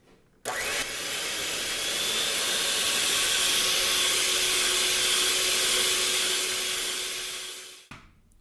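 Blender whipping five egg whites with vanilla extract, a steady loud motor whine and hiss that starts abruptly, runs for about seven seconds and winds down.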